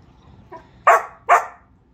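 An Old English Sheepdog barks twice, loud and close, after a softer short yip, with quiet in between.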